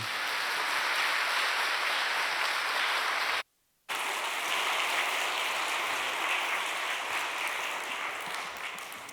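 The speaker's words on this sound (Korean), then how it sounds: "우리 목사님 나올 때 뜨거운 박수로 환영하시겠습니다" A church congregation at an evening seminar bursts into warm applause to welcome the pastor, a steady, dense wash of clapping that cuts out briefly and then resumes, continuing alone at an even level.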